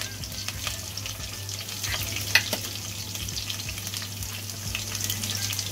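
Two dried red chillies sizzling in hot oil for Schezwan fried rice, a continuous crackling fry with light stirring scrapes and a low steady hum underneath, close and unbroken, nobody speaking.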